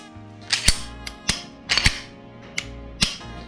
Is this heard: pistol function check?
yes